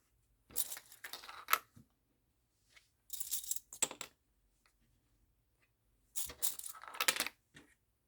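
Sewing clips snap onto wristlet fabric in three clusters of sharp, close clicks and light plastic rattles, separated by quiet pauses.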